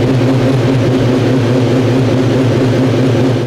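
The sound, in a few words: BMW HP4 Race motorcycle engine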